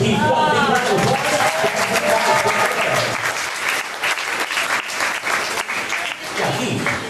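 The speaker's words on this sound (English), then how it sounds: "Let's give Keith one big round of applause." An audience on a studio backlot tour breaks into loud applause, dense clapping that stays strong throughout with a slight dip midway. A voice speaks over the clapping at the start.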